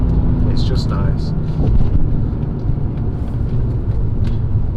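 Cabin sound of a BMW E46 car on the move: a steady low engine and road rumble fills the background while a person talks over it.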